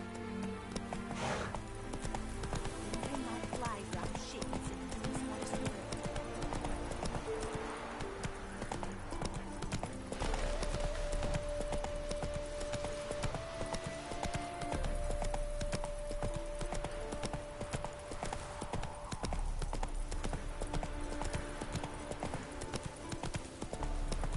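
The horse Roach trots along in a video game, its hooves clip-clopping in a steady rhythm over continuous game music and ambience, with a long held tone partway through.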